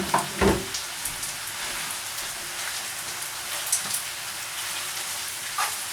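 Noodles frying in a pan alongside rice for pork fried rice: a steady, rain-like crackling sizzle throughout, with a few sharper pops and clinks of utensils near the start.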